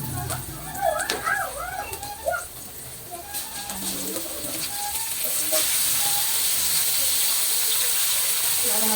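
Squid dropped into a hot pan for adobong pusit, the hiss building into a steady loud sizzle after a few seconds, following talking near the start.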